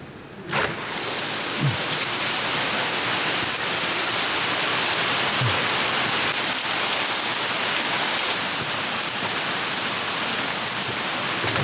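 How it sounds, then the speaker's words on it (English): Steady rain pours down in the Highlands, North Carolina mountains in summer, a loud, dense, continuous hiss of drops on surfaces close by, with a couple of brief low thumps and no speech. "We're gonna wait till this rain blows out of here."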